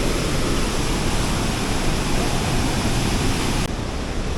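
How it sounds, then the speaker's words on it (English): A large waterfall in Baños, Ecuador roars as a loud, steady broadband rush of falling water, heard close by and unbroken throughout, with no voices over it. "So I'm going to end up down there, very close to it, the waterfall."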